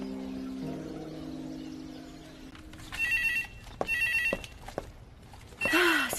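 A telephone bell rings in short electronic bursts after a steady low tone, followed by a sliding chirp, fairly close and without speech.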